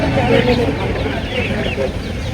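Chickens cluck busily and close by at a country poultry, sheep and goat market in Chandapura, a dense mix of bird calls with people's voices talking over it.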